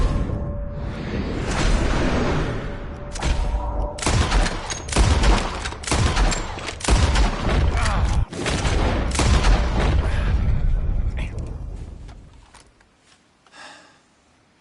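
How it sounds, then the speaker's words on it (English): Rapid gunfire and booming shots ring out during a bird-shooting contest in Red Dead Redemption 2, loud and sustained with whooshing bursts for about twelve seconds before fading out. "You shoot 4 birds out of the sky before me, we'll call it a day"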